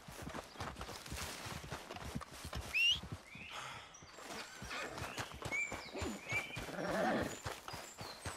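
Horse in Red Dead Redemption 2 trotting up with rhythmic hoof clip-clops, snorting and whinnying close by, with tack jingling faintly in the background.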